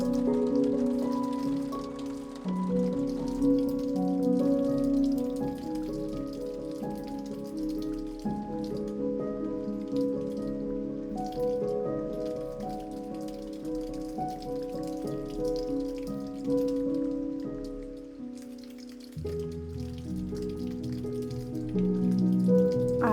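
Rain falls steadily on a rainy April day, a soft continuous patter that runs under sustained music the whole way through.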